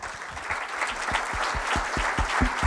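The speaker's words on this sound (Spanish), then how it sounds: "Vamos a despedir con un fuerte aplauso a Salvador Freixedo" Steady audience applause fills a conference hall at the close of a UFOlogy lecture, a dense wash of clapping that holds at an even level throughout with no voices over it.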